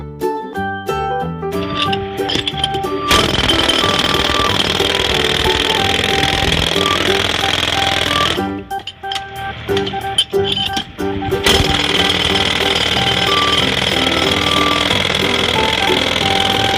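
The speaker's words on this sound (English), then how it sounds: "jackhammer." A children's toy jackhammer plays its electronic sound effect, a loud continuous buzzing rattle with musical beeps, cutting out briefly midway before resuming.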